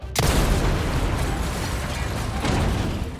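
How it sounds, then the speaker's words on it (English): A rocket launcher explosion in Resident Evil 4 bursts in as a sudden loud boom, then a long rumbling roar sustains for several seconds, swelling again briefly near the end; no voices are heard. "using the rocket launcher to save Leon and Luis from having to go dynamite hunting"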